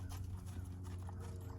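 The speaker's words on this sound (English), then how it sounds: "Keep them trotting." A horse trotting with a steady clip-clop of hooves under a low, constant hum, the rider keeping an even pace during a balance lesson.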